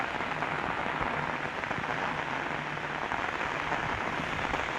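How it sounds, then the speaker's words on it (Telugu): Heavy rain pouring through trees and dripping from the branches in Kadthal, Rangareddy district, a dense steady roar of drops on leaves and surfaces that stays loud and even throughout. "ఏం వర్షం రా బాబు చెట్ల మీద నుంచి"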